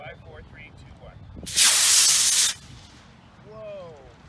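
Estes Puma model rocket launching on an A3-4 engine, a loud sharp rushing hiss lasting about a second, with people talking before and after it.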